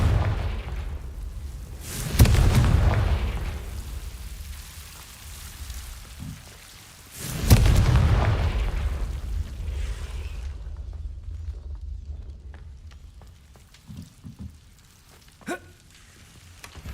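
A Confringo spell cast in Hogwarts Legacy, heard as two heavy booming blasts several seconds apart, each with a loud rumbling low burst and crackling debris tail over steady game ambience.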